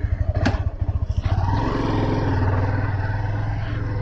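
A motorcycle rides along a road in Dang, Nepal, heard up close with a steady, low, throbbing engine note. Wind rushes past the whole time, and a sharp clatter comes early on.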